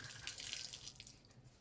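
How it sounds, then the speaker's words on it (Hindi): Hot water runs from the outlet of a newly switched-on electric water heater: a faint, steady splashing hiss of flowing water with no talk over it. "ये चालू करूंगा, गर्म पानी होकर ये नीचे से निकलेगा। ये निकल रहा है।"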